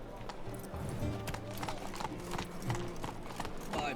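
Roach, the horse in The Witcher 3, gallops with a steady, fast clip-clop of hooves that continues throughout. Other game sounds fill the background, and there may be faint talk.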